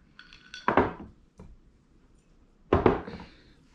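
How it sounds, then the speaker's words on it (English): Ice clinks and rattles in a glass as a Manhattan cocktail is stirred by hand, two loud clattering bursts with a short tap between them, close up with no talk. "Then we're gonna stir it."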